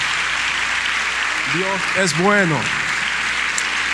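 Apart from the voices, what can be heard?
congregation applauding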